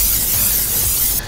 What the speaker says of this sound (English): You grab your little muffin pan and you give this a little spray down